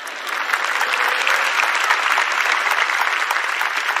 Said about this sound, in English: You can applause, clap.